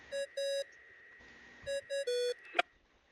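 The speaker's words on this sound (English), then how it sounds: "What's that ringing?" A communication device rings in the Genshin Impact video game, giving two bursts of bright, steady electronic beeps separated by a pause, followed by a short sharp chime near the end.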